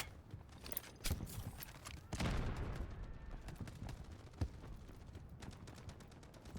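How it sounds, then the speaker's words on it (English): Footsteps crunch behind the player in the shooter Delta Force amid busy battlefield noise, with gunfire bursts and impacts layered over the steady near steps. "Look, I hear footsteps behind me."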